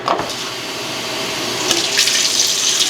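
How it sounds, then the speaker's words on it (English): Water runs steadily from a tap, a continuous hissing splash that brightens as the flow shifts partway through; close and alone, no voices. "So let me add water here"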